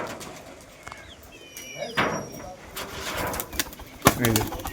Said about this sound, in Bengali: ও নাইস আওয়াজ কি পায়রার